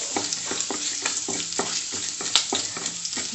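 Garlic sizzles in a pan for a Kerala kootu curry as ground masala paste goes in, with a dense continuous frying hiss and regular stirring strokes that scrape about every third of a second.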